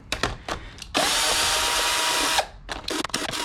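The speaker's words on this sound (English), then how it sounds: "I'm going to grab the drill and get these hubcaps off, loosened up" A cheap Hyper Tough power drill loosens hubcaps on a 2003 Suburban. After a few clicks and knocks it gives one loud sustained whirring burst of about a second and a half, followed by more clattering tool handling.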